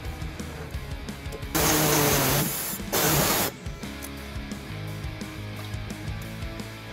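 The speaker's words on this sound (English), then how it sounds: "We're going to use an air saw to cut that off." An air saw cuts off a steel bumper post on a 2018 Hyundai Santa Fe in two loud, hissing, buzzing bursts of about a second each, set against quieter workshop background noise.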